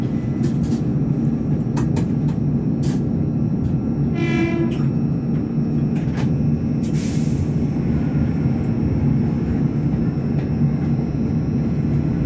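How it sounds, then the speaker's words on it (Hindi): The Tejas Rajdhani train pulls out of Borivali railway station with a loud, steady rumble of wheels and carriages, a brief horn blast in the middle and the clatter of rail joints. "So guys you can see departure from Borivali railway station."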